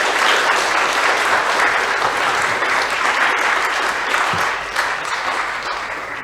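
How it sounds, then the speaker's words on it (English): A conference audience applauds panel speakers at a climate and cultural wisdom event, with steady, full clapping from a large crowd that continues throughout and eases slightly near the end. "So please, a round of applause for our speakers."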